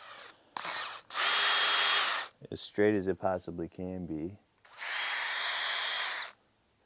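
Power drill boring a hole for a rivet nut in a van build, two sustained high whining bursts of about a second each separated by someone talking, close and loud.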